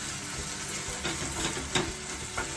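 Cinnamon and cloves sizzle in a hot pan with tomato for tomato bath, a continuous dense frying hiss with several short scraping stirs spaced through it.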